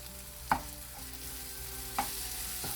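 Roasted brinjal cooking with masala in a pan, a low steady sizzle with two soft spoon-against-pan clinks, close and quiet, no voices.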